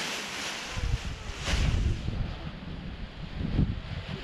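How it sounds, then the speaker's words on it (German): Wind buffets the microphone in low, irregular gusts on the Buchenberg, with a steady airy rush in the background. "Hey, super Wind jetzt auch."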